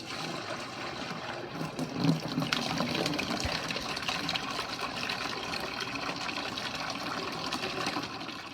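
Water poured into a bucket with holes, a continuous, steady rush of splashing and trickling liquid that runs unbroken throughout, moderately loud with no talk.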